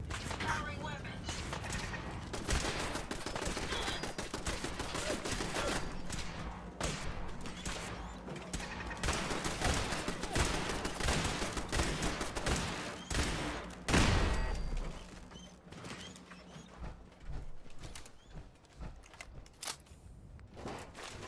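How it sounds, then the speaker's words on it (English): Dense, continuous weapon fire in Fallout 4 during a fight, with rapid cracks and bursts over some twenty seconds, including a heavy thump midway and voices speaking at times. "Firing weapons."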